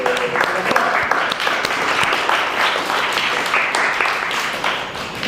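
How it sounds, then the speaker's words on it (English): Meeting audience at NYU applauding the host, a dense, steady burst of many hands clapping at close range for several seconds, with a voice briefly heard at the start. "So everyone, round of applause for NYU."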